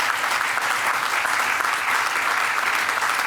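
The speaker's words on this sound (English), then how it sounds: "You can clap on that too if you want" Audience at the opening of an innovation center in Middle Georgia breaking into steady, dense applause, a loud continuous wash of clapping from many people that holds evenly throughout.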